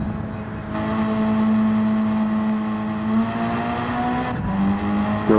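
A front-engine, rear-drive turbocharged car in Gran Turismo 7, its engine droning in a steady loud tone that climbs gradually in pitch, with a brief dip near the end before rising again.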